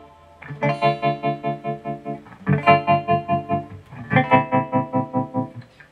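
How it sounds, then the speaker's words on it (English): Sustained electric guitar chords through a tremolo pedal pulse in a steady, fast tremolo, the volume rhythmically swelling and dipping across three strummed chords with a slightly effected, chorused tone. "and now the tremolo sounds like this."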